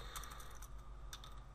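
Quick, light keystrokes on a computer keyboard, several short bursts of clicking taps close by and fairly quiet, with no one speaking.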